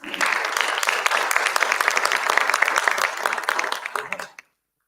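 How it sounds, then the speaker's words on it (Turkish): An audience at an award ceremony at the Nilüfer library applauds loudly and steadily for about four seconds, a dense crowd of clapping that stops abruptly into silence. "Buradan onlara da alkışlarımızı gönderelim lütfen."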